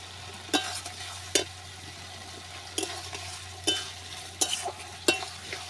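Chicken kosha being stirred in a pan with Kashmiri chili powder and fried potatoes: a steady sizzle under repeated scraping strokes of a spoon against the pan, about six distinct stirs, close and fairly loud.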